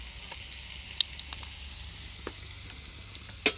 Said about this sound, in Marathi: आता आपण ह्याच्यात टोमॅटो टाकूया.